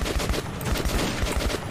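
Rapid gunfire from the first-person shooter Metro 2033 on PS4, a steady stream of closely spaced shots running throughout at a constant, fairly loud level with no talk.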